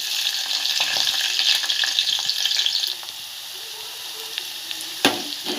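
Onion tipped into hot oil with curry leaves in a pan: a loud, bright sizzle that settles into a quieter steady frying hiss, with a few stirring knocks near the end.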